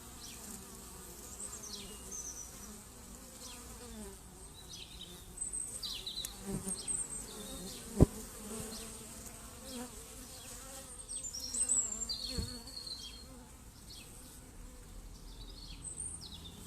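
Honey bees buzz continuously around the listener in a garden, a steady close drone with individual insects swelling louder as they pass, plus a sharp knock midway.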